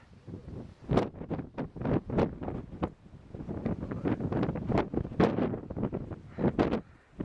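Strong coastal wind on the GR20 trail in Corsica buffets the microphone in gusty, rumbling bursts that rise and fall unevenly, with no voices.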